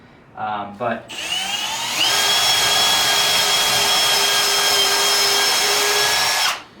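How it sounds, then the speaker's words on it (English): A power drill whirs steadily for several seconds while drilling a hole, loud and close, its pitch rising as it spins up, after a brief voice at the start. "So first things first, you're going to drill a hole."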